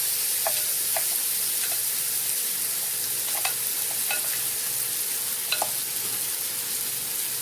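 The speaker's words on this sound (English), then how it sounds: "just gonna put them in the frying pan" Burger patties for cheddar burgers sizzle in a frying pan over medium-high heat. A close, steady crackling hiss is dotted with sharp little pops, and no one speaks.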